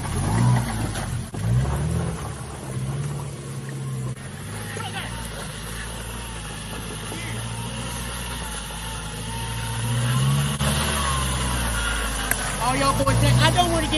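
A four-cylinder Toyota Tacoma pickup engine revs steadily in forward low, a loud continuous drone with swells of acceleration near the start and end, while people talk over it.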